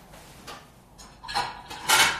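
Plates and dishes are taken out in a kitchen, with a few short ceramic clinks and clatters building to a louder rattle at the end, close by and without talk.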